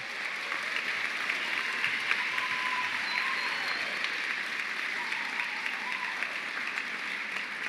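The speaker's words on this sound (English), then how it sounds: "Let's give them a round of applause." Sustained audience applause fills a veterinary school white coat ceremony hall, a steady even wash of clapping from many hands at moderate volume throughout, with no voices rising above it.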